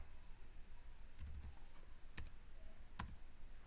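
Sparse keyboard clicks from someone entering R code on a computer, a few isolated key taps and short bursts spread over a steady low room hum.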